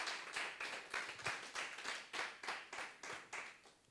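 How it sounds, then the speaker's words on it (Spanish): A church congregation claps during a Sunday service, about a dozen rhythmic bursts of applause in a steady beat, moderately distant and without voices. "Un fuerte aplauso para nuestro Señor"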